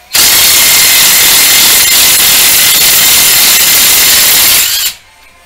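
Harbor Freight 18V cordless 1/4-inch hex impact driver removing cover bolts: one loud, steady burst of rapid hammering motor noise lasting nearly five seconds, then an abrupt stop into quiet.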